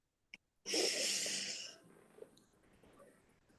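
A fitness class participant takes one loud, breathy exhalation lasting about a second, close to the microphone, then it fades into quiet room tone.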